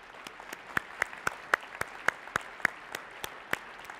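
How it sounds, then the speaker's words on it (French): An audience at a Quebec City technology conference claps for the event's partners, a sparse, fairly quiet patter of about a dozen distinct hand claps spread over a few seconds, with no voices. "J'aimerais qu'on puisse les applaudir, les partenaires hors de la GIC"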